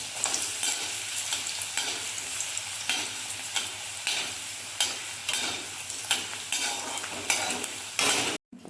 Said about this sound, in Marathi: आता आपण रताळं तळत आहोत.